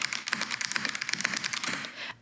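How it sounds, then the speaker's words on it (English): Rapid, steady typing on a thunky-sounding mechanical computer keyboard, each keystroke close and clearly distinct, with a brief pause near the end. "love this keyboard"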